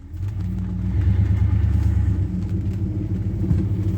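A 1968 Ford XL engine idles and runs with a deep, steady rumble and low throbbing exhaust pulses, heard close and alone without talk.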